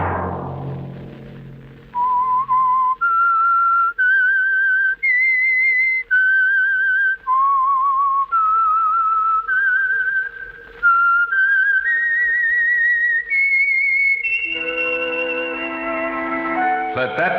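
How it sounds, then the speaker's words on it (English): The whistled theme of the radio mystery program The Whistler: a clear, solo melodic whistle of sustained notes stepping up and down, loud and close over a faint steady background tone, ending as orchestral music enters. "Let that whistle be your signal for the Signal Oil program, The Whistler"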